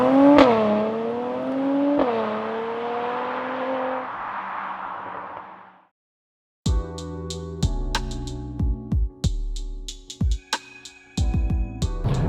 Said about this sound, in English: it launched nicely